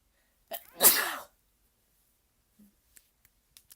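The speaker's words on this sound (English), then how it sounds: "I need to sneeze." One close, sharp sneeze bursts out, followed by quiet with a few faint clicks.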